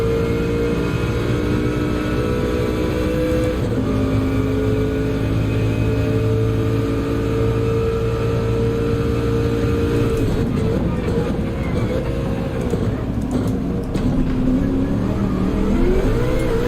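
A race car engine in the Gran Turismo racing game drones loudly and continuously, its pitch rising and falling as the car shifts and accelerates, with a brief rougher stretch near the end.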